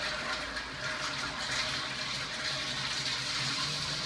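A Crane Placidus flush fixture in a high school restroom runs a very long flush, a steady hissing rush of water that carries on unbroken at moderate volume with no voices.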